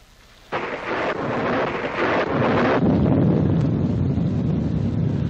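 Thunderstorm battering a truck on the road, with a sudden loud crack of thunder followed by a steady roar of rain and wind noise that continues throughout, no talk.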